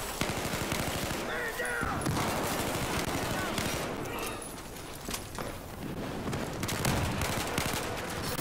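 Dense, sustained gunfire fills a Battlefield 4 battle, a near-constant clatter of automatic shots with shifting intensity throughout, with players talking over the shooting.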